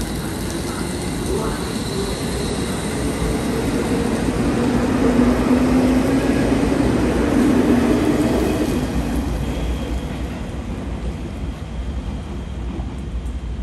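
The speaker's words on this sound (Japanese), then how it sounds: "列車が発車します。ご注意ください。" A 783 series limited express pulling out of Oita Station at night, steady low motor hum and wheel rumble swelling then fading over platform ambience, with a departure announcement voice faintly in the background.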